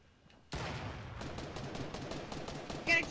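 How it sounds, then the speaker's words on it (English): Gunfire in the video game Fortnite breaks out suddenly after a quiet moment. A rapid string of close shots continues steadily, with one sharper burst near the end. "Getting shot at, Andrew."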